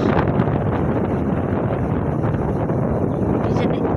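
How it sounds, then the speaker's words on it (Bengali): Strong wind in a rainstorm roars steadily against the microphone, a loud continuous buffeting rumble with no break. "আর প্রচন্ড বাতাস"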